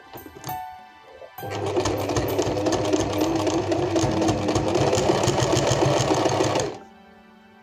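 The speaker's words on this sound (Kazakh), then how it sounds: "бірінші бас жағына закрепка беріп аламыз, екі қайтара тігіп." An electric sewing machine stitching a curtain hem with a backtack: a few soft clicks, then a steady, close, rapid whirring run of about five seconds before it stops abruptly.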